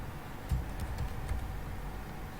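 Keys clatter on a computer keyboard as a web address is typed into a browser, a short run of light, uneven taps and clicks over a steady low room hum, with no voices.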